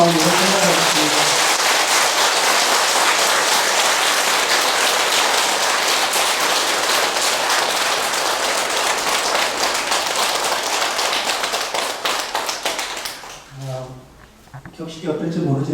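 Sustained audience applause at a Buddhist dharma gathering, loud and dense for about thirteen seconds, then tapering off as a voice begins speaking.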